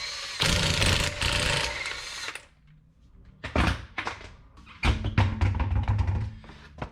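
A 17mm impact wrench at work on a B8 Audi A4/S4 during a rear brake line replacement, giving loud bursts of rattling hammering with short pauses between them, close up.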